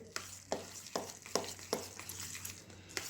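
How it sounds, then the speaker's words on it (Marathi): A small whisk churns fresh cream into butter inside a pot, giving a series of quick, rhythmic scraping strokes about every half second, close and fairly quiet, with no talking. "हे छोटं हे विस्कर मी घेतलेलं आहे. यानं आपल्याला एकाच दिशेनं अशा प्रकारे हे फिरवून घ्यायचं आहे."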